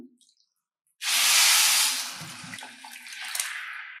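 Two bowls of water gush steadily into a pan of semolina with a bright, hissing rush, then settle into a lighter trickling splash near the end.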